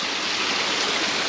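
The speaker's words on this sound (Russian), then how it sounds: "ручеек бежит с водопадом" Steady, full rush of flowing water, a stream spilling over a small waterfall in the Altai mountains, continuous and close.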